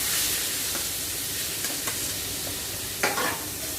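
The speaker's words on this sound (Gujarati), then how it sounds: "અડધી ચમચી હિંગ જીરું તતડે એટલે ડાયરેક્ટ નાખી દઈશું કાંદા" Sliced onions sautéing in ghee with cumin, asafoetida and whole spices give a steady close hiss and sizzle, with a few brief stirring scrapes and a louder crackle near the end.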